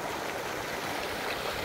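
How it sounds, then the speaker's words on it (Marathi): Water gushes steadily from a 2-inch pipe fed by a 7.5 HP DI borewell pump irrigating a sorghum field, a constant broad rushing splash, moderately loud and unbroken. "ते 2 इंच पाईप आहे आणि आपल्या बोरचं अशा पद्धतीने पाणी चालू आहे"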